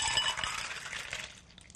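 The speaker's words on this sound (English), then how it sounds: "Set up your glass and pour it in." Bocce Ball vodka cocktail poured from a shaker into a glass, a close, bright splashing trickle with light clinks against the glass, tapering off after about a second and a half.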